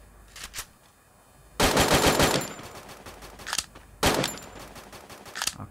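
Thompson submachine gun fire in the Free Fire video game, arriving as two loud sustained automatic bursts with a few shorter shots around them, close and dominant with no talk.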